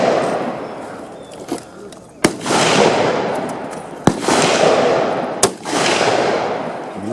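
Rifle shots ring out at an outdoor range, three sharp loud cracks at irregular intervals, each followed by a long rumbling echo, with voices murmuring between them.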